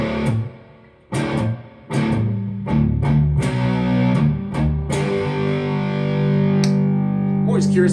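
Electric guitar played through an amp with reverb switched on: a series of strummed chords and picked notes whose tails ring and wash out, then a sustained chord lingering near and loud.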